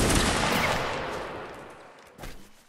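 A line of soldiers fires a musket volley in the Napoleonic Wars video game: one loud, broad blast at the start decays into a long rolling echo, and a smaller shot or impact follows near the end.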